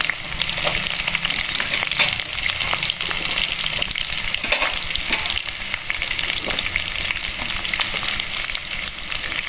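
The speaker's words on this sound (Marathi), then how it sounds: "हे सर्व मिश्रण व्यवस्थित हलवून घ्यायचं व्यवस्थित फ्राय करून घ्यायचं" Green chili, carrot and red chili sizzle steadily as the mixture is stir-fried in a pan, a constant loud frying hiss broken by frequent small scraping and stirring ticks throughout.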